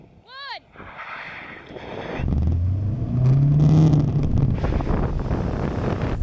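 Skoda Octavia vRS cars, including a Mark 3 Octavia, launch in a drag race, engines swelling from a low rumble into a loud rising roar under gusty wind noise, with a brief voice at the start.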